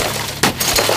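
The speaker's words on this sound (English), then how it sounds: "We recorded smashing car windows, The side windows, the back window." A car window is smashed at a junkyard chop shop: a sudden sharp crash of breaking glass, loud and close, followed by a brief scatter of falling shards.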